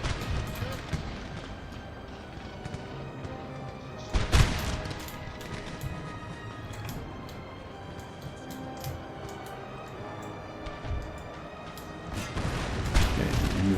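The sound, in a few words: musket gunfire in the video game Napoleon: Total War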